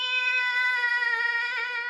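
A person imitates a cat's meow to catch a dog's attention during a pet photo shoot: one long, steady, close-up meow with rich harmonics that rises in pitch at the end, with no other sound.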